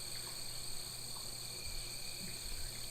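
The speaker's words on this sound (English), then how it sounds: "you can hear all the crickets and birds and whatnot buzzing away" Crickets chirp at night in the video game A Night in the Woods, a steady layered high-pitched insect drone with faint scattered bird calls, soft and continuous without talking.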